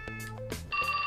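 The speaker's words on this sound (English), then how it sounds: "That's my phone." A cell phone rings in the video game 428 Shibuya Scramble, a bright electronic trill that starts partway in and keeps going over clattering game sounds and background music.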